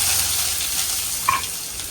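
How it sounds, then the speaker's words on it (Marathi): Chopped onion sizzles in hot oil as a tempering is made for a chole masala meal, a steady close frying hiss with one small clink partway through. "बघा आपण आता कांद्याची फोडणी दिलेली आहे"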